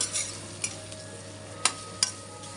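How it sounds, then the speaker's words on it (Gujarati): Ridge gourd pieces fry in hot oil with asafoetida while a spoon stirs them in the pan, a low steady sizzle broken by a few sharp metallic scrapes and clicks. "હિંગ ગરમ થઈ જાય એટલે આપણે આ ગલકા નાખી દઈશું હવે આપણે એને ચલાવતા રહીશું"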